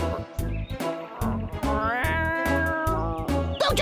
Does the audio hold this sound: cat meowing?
yes